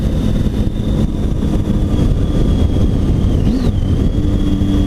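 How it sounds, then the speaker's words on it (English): A car driving along a lake, with continuous engine and tire rumble close by and a brief rising pitch sweep near the end, steady and loud throughout. "driving along the lake right now"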